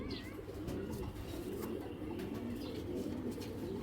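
Racing pigeons of Belgian and Dutch club lines coo softly and steadily, up close over a low, constant background hum. No one speaks.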